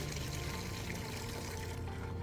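Chlorine-free water or rainwater pours steadily into a container as 10 to 12 liters are prepared for a garden fertilizer mix, a continuous soft splashing rush with no break.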